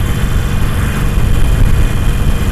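Harley-Davidson Iron 883 motorcycle engine held at about 2800 rpm while riding, a loud, steady low rumble that stays continuous and close throughout with no voices.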